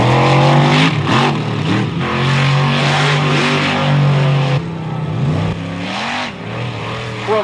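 Monster truck engines rev hard at a monster truck show, loud and close, with sustained roaring tones rising and falling in pitch and a few throttle swells, no talk.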